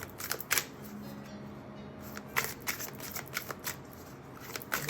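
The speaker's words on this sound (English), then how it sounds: "I'm going to shuffle until they tell me to stop" Rapid papery riffling of a deck of cards being shuffled, in repeated quick bursts with brief pauses, close and fairly quiet.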